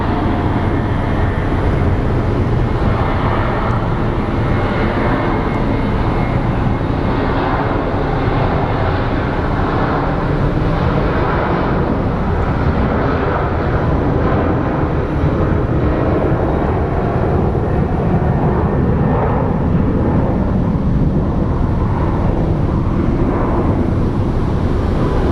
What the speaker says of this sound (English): So the Southwest that's powering up is headed to Midway